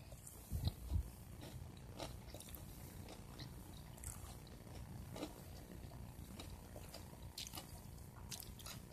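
Close, quiet bites into a crunchy, breadcrumb-coated deep-fried dory fish piece: a couple of sharp crunches early on, then faint, soft chewing for the rest of the time.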